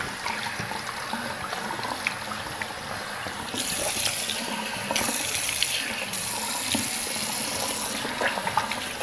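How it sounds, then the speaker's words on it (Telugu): Tap water runs steadily into a sink while a papaya and honey face pack is washed off, a close, continuous splashing rush that swells louder in the middle as hands move under the stream. "నాకు, నేను ప్రస్తుతానికి వాష్ చేసుకుంటున్నాను."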